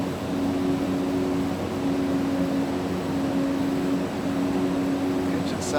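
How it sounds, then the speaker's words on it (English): Turboprop engine of an Epic E1000 G aircraft in the X-Plane 12 flight simulator, a steady loud drone with a constant tonal hum running throughout, seemingly rough as if about to cut out. "Engines sound like they want to cut out, don't they?"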